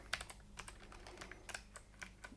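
Computer keyboard keys are typed in quick irregular bursts of light clicks and clacks, fairly quiet and close, with no talking.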